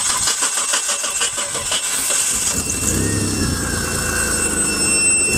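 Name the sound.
3-litre petrol car engine starting with supercapacitor jump starter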